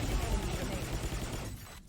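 Rapid gunfire from a Valorant esports match between 100 Thieves and Leviatán, a dense continuous burst of shots under a caster's talk that thins out near the end.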